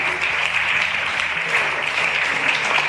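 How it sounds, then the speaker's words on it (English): A school audience at a National Space Day quiz competition claps steadily and loudly, a dense wash of applause with no break. "Big round of applause for Tamanna"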